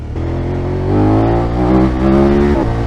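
A motorcycle engine revs loudly and close up during a wheelie on a tour. Its throaty drone holds steady, then climbs in pitch and stays strong for a few seconds.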